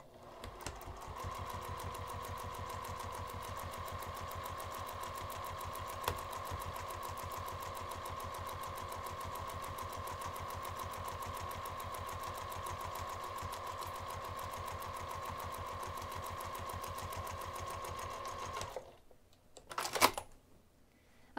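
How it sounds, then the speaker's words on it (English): A sewing machine top stitches the curved edge of a fabric craft bag with a lengthened 3 mm stitch, a steady, even run of rapid ticking hum close by, stopping before a couple of brief handling clicks. "I'm going to take this over to the sewing machine, and I'm going to top stitch just the curved edge using an 1/8 inch seam allowance"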